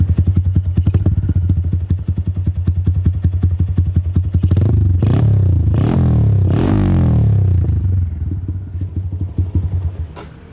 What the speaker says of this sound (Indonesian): Ternyata kalau digas suaranya menggelegar juga pemirsa.